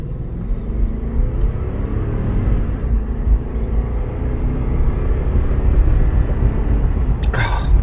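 A 2011 Lexus LX570 SUV on the move, its engine giving a steady, deep rumble from inside the cabin that swells slightly toward the end, with a brief whooshing burst at the close.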